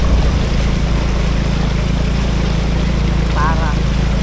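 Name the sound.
new motorbike riding through flood water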